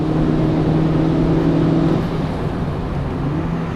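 A 2015 car's engine revs hard while accelerating past the start-finish straight of a track at about 85 mph, a loud, steady droning roar with a tone that shifts partway through.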